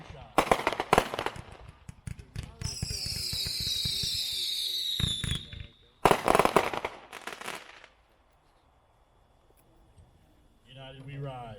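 World Class United We Ride, a 22-shot 200 gram fireworks cake, fires rapid loud bursts with crackling and whistling trails, a pause, then another dense volley before fading, with brief voices at the end.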